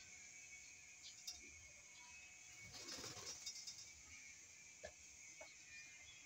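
Pigeons in a loft make faint, soft cooing calls with a few brief rustles and taps against a steady low background hum, no talking.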